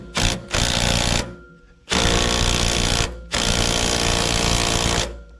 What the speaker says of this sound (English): I'm gonna take this 9/16 nut off of this pulley